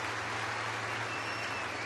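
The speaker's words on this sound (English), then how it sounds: "a nice round of applause for the former Cardinal, Colton Wong" A baseball stadium crowd applauds former Cardinal Kolten Wong at a Brewers–Cardinals game, a broad, even wash of clapping that holds steady throughout.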